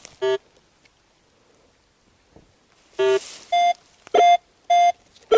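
A metal detector sweeping over buried metal while searching for World War II relics in the Carpathian mountains gives loud, sharp electronic tones, one early and then four or five in quick succession, with quiet gaps between.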